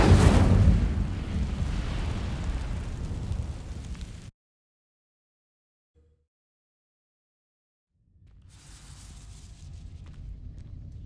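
A burst of fire from the Incendio spell in Hogwarts Legacy roars loudly and briefly, then fades into near silence. A softer rumbling ambience returns after a few seconds.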